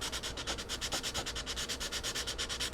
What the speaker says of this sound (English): let's roughen this up a little bit.